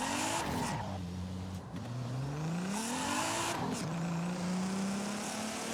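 A car drifts in Forza Horizon 5, engine revving and pitching up and down through gear changes while tires squeal continuously, loud and close throughout.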